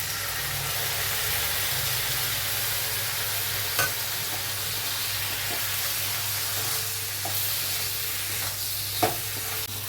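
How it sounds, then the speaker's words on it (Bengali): Poppy seed paste with green chili frying in a pan for a potol posto dish, a steady close sizzle with occasional spatula scrapes and a low background hum, no talking. "পোস্তটা একটু ভালো সময় ধরেই কষাতে হবে"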